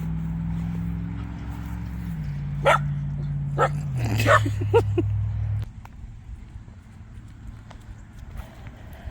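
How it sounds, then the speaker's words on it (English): A dog barks a few times at close range in a park over a low droning hum, which cuts off partway through and leaves quieter ambience. "So she's barking at what I want to show you in the park here."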